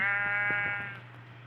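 A Minecraft sheep gives a single loud, wavering bleat up close, fading out toward the end over a faint low background hum.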